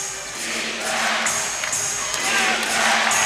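Basketball arena crowd urging on the Vancouver Bandits in a CEBL game against Montreal Alliance, a sustained roar and cheering that swells toward the end, with an announcer talking over it.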